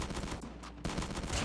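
Shotgun fire in Call of Duty Mobile, loud booming blasts with rapid crackling bursts, one cut off and another following close behind, no talk.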